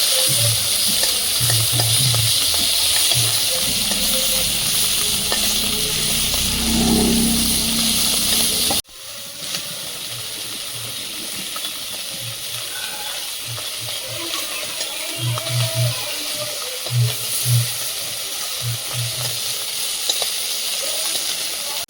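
Sorshe and kholse fish fry in hot oil with a loud, steady sizzling hiss that fills the whole stretch, dipping abruptly once partway through, with faint low knocks and stirring underneath.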